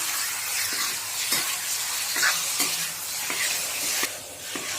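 Meat for amothu bhaji sizzles steadily in a frying pan while a spatula scrapes and stirs it in irregular strokes, close and clear with no talking.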